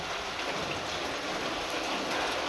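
Heavy rain pours down in a dense, constant hiss with strong wind blowing alongside, a steady loud wash of water with no voices.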